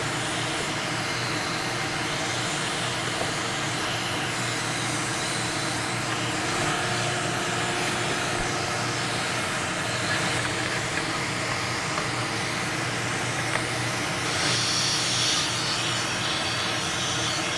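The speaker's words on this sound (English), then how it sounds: "We're getting a lot of suction from a big vacuum cleaner" A big vacuum cleaner runs with a steady, loud broadband roar, brushing and sucking in a sewing studio, a constant rushing hiss that holds for the whole stretch with slight swells near the end.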